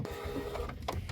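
A home printer prints a single copy, a steady mechanical whir with small rhythmic clicks and feed noises running throughout at moderate, close volume.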